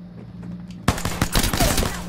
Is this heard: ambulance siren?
no